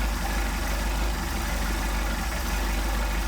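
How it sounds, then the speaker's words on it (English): A Mercedes 190SL engine with Solex carburetors idles during a cold start, a steady, close, even rumble with no pauses. "Then we picked up a little bit of idle right there."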